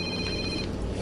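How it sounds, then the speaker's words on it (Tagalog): A cellphone rings with an incoming call in a drama scene, its steady electronic ringtone tones sounding clearly for about a second over a busy background, with no talking. "may nagapanawag sa cellphone mo."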